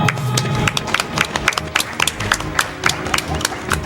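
Audience clapping in a hall during a live speedrunning marathon event, a quick patter of many hands close and loud from start to finish, with no speech over it.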